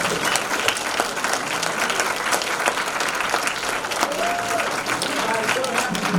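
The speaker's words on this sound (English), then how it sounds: "we'd love to give you another round of applause" Audience applause at a medical college all-staff meeting welcoming new team members, a steady, dense clapping from a large indoor crowd lasting throughout, with a faint voice briefly audible near the end.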